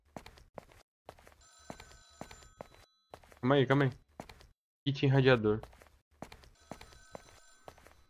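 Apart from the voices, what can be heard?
telephone ringing in horror video game Sinister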